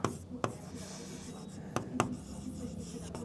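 Pen scratching across paper during a class 10 coordinate geometry lesson, soft strokes with a few sharp taps, faint and close, with a quiet murmur of background noise.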